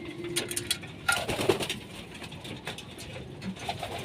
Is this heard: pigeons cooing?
yes